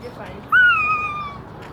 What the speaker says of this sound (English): That's a hawk, not an eagle.